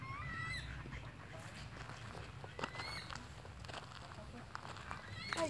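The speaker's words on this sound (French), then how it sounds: "J'ai des petits bruits des petits canards." Ducks quacking in a park around a small island, with scattered brief calls over a constant outdoor background while people talk nearby.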